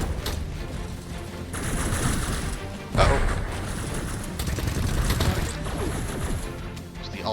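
Gunfire rattles continuously through a fight with goons and a boss in the shooter game Pax Autocratica, with loud rapid bursts, crashing impacts and one sharp heavy blast partway through.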